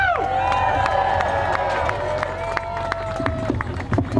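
An audience at an evening political rally cheers and claps loudly, with whoops and sharp handclaps running throughout the cheering.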